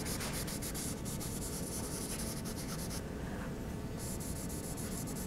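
Charcoal rubbed across drawing paper to spread shading on a sketch of a bottle, a continuous close, dry scratchy rubbing with steady back-and-forth strokes and a brief pause in the middle.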